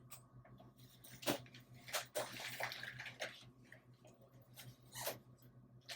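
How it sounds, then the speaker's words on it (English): A zipper on the vinyl weather enclosure of a Yamaha Drive2 golf cart is drawn along in a few quiet, raspy pulls, with rustling and soft handling of the material between them. "Pull the zipper down to the sides and snap to the body to seal the enclosure."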